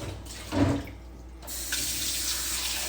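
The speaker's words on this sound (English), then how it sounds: "you want to fill your Vitamix almost all the way up with water" Tap water pouring into a Vitamix blender jar in a kitchen, a steady hissing splash with a brief louder gush early on, close and continuous, no voices.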